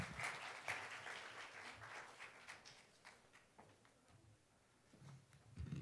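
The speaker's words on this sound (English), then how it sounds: "let's welcome him with a big round of applause" A round of applause greets the moderator at a forum of fellowship alumni, fairly quiet clapping from a seated audience that thins out and fades before rising briefly again at the end.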